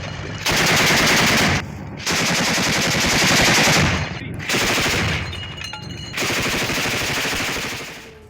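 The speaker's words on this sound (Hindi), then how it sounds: "BMD असॉल्ट व्हीकल से भीषण गोलाबारी की गई है" Heavy automatic gunfire from a BMD assault vehicle in the Russia-Ukraine war, loud, dense bursts of rapid shots separated by short pauses, four long volleys in a row with no voices.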